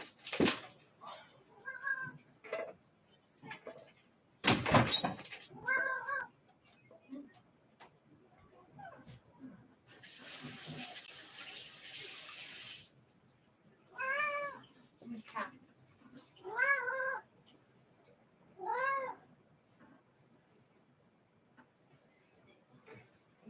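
A house cat meows several times, with separate rising-and-falling calls spaced a few seconds apart, close and fairly clear, mixed with soft ticking and a brief burst of noise in a quiet room.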